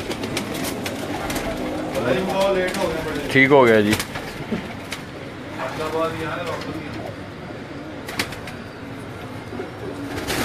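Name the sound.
pigeons cooing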